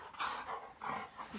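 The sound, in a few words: dog whimpering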